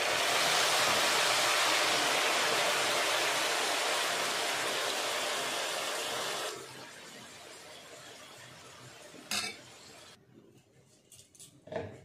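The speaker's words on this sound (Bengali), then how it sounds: "আমি ওই উনুনে দুধটা জাল দিয়ে নিয়েছি, এবার দুধ দিয়ে দিচ্ছি।" Boiled milk poured into a pot of Bengali shukto curry, a steady loud rushing pour that stops abruptly, followed by faint clinks and small kitchen noises.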